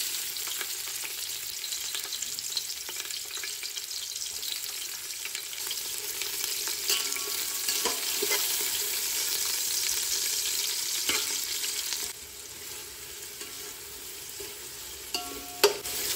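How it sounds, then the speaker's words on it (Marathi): Lengthwise-sliced onion fries in hot oil over a low gas flame, giving a steady close-up sizzle with a few light stirring scrapes and taps throughout. "हितून उबो चिरलेलो कांदो जो आसा पळय न्हू तो पयलीं फ्राय करून घेता"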